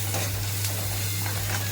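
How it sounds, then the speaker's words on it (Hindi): Onions lightly frying in a pan make a constant close sizzle with a low steady hum underneath, uniform and unbroken throughout. "प्याज है हल्का सा भुजा दे संगवारी हो"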